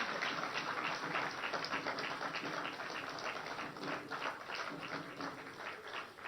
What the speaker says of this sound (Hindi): तालियां तो जोरदार बजते रहनी चाहिए।